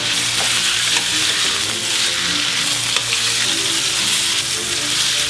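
Steaks sizzle loudly and steadily in a frying pan for a pepper steak, a dense continuous frying hiss with a few faint clicks as the meat is turned, and no voices.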